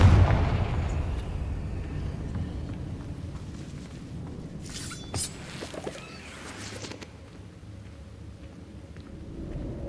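A Confringo spell explosion in Hogwarts Legacy, a booming blast at the start that decays into a rumble, followed by scattered crackles and a faint low tail.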